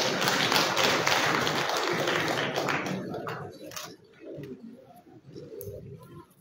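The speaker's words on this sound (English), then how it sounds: "Clap for Matthew" An audience claps for Matthew Wifor at a youth empowerment gathering, a dense burst of applause for about three seconds that thins into scattered claps under background voices.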